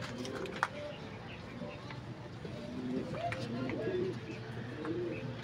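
Pigeons coo softly in a series of low, rounded calls at fairly close range, with a person speaking and a few small knocks and rustles in the background.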